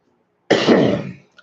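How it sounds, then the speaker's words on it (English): A single harsh, close cough lasting under a second, loud and raspy, emerging from silence. "Forgive me for the cough, guys."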